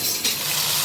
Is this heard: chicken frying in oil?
yes